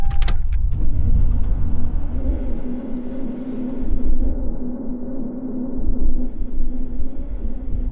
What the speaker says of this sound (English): That'll be the fuel pump, which it probably needs a lot of.